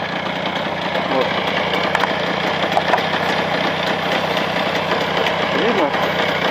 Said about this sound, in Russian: Так, карбюратор слушается, мотор в режиме